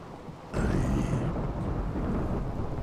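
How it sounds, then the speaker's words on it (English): Rainy thunderstorm in the video game RimWorld: a steady wash of rain noise jumps louder as a low thunder rumble rolls in and then keeps going as continuous storm hiss. "That's a rainy thunderstorm."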